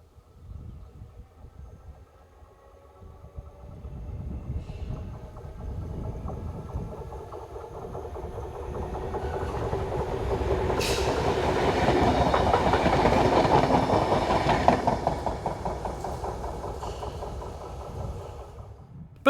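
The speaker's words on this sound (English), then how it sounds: "Both units, working the local service to and from Braine-le-Comte, pass each other in this view." Two Belgian local train units on the Braine-le-Comte service pass each other, the rumble and clickety-clack of wheels swelling steadily to a loud peak and then easing slightly, with no voices.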